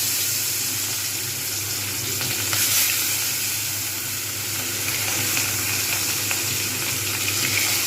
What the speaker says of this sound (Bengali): এবার আমি একটা একটা করে মাছ ছেড়ে দেবো।